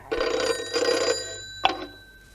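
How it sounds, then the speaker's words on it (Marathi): A telephone rings indoors in two loud bell bursts, followed by a short sharp click before it falls quiet. "सारखे फोन येत आहेत"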